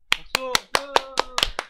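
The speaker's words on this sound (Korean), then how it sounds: "우리를 위해서 박수!" A small group gives a short burst of rhythmic clapping, about eight sharp, evenly spaced claps in quick succession, close and fairly loud, with some ringing tones mixed in.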